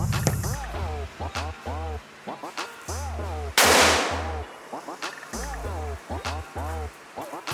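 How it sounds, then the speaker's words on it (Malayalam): A 5-ply Hulk bomb firecracker set off for Vishu gives a single sharp, loud bang partway through, while someone talks steadily before and after the blast. "ഹൾക്ക് ബോംബ് എന്ന് പറയുന്നത്. ഇത് 5 പ്ലൈയിൽ വരുന്ന ബോംബാണ്."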